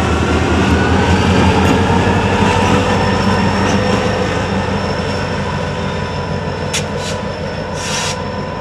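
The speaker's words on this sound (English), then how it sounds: "It's a light engine move." A light engine locomotive moving northbound on a rail line, its steady rumble and rolling wheel noise loud and continuous throughout, with brief higher squeals or tones near the end.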